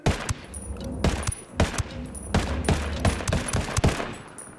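Rapid bursts of automatic gunfire and single shots crack in close, uneven volleys during a firefight in Ghost Recon: Wildlands, with no voices over them.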